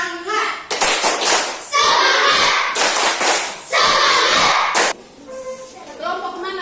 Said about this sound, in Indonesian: tepuk semangat dong, tepuk semangat.